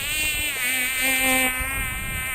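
Mosquito buzzing sound effect from a stage play at a college annual day, played for an Aedes mosquito character: a continuous high, thin whine lasting the whole clip, fairly loud and close, with a faint lower tone underneath midway.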